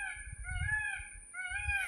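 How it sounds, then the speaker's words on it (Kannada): A peacock calls in a house yard with a short series of nasal, honking cries, fairly faint and a little distant, with no voices. "ಇಲ್ಲಿ ನಿಮಗೆ ವಿಡಿಯೋ ಮಾಡುವಾಗ ಜಾಸ್ತಿ ಕೇಳಿಸ್ಬೋದು ಯಾವುದು, ಪಿಕಾಕಿನ ಸೌಂಡ್"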